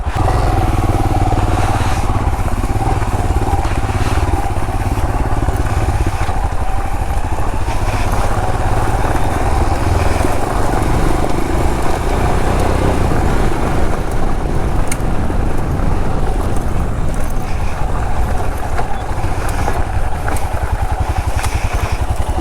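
Royal Enfield Himalayan BS6 motorcycle riding toward a dam, the engine a steady loud close drone with wind rush throughout and no talking.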